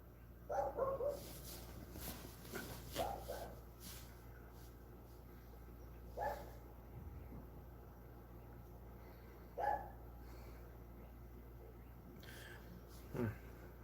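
Barking from a dog out in the road, a few short bursts spaced several seconds apart, moderately distant over a low steady background hum.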